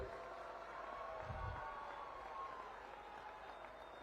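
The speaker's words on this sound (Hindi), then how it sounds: "जोर से ताली बजाओ हेमंत जी के लिए।" A large crowd at a BJP political rally in Palghar, Maharashtra applauds, producing a soft, distant wash of clapping and murmuring that stays fairly even and low in level.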